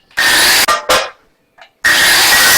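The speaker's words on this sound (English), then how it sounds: "We will hit it a little bit more with the grinder." An angle grinder bites into a metal jack mount in loud, close bursts, cutting out briefly between passes before spinning up again, with no talking.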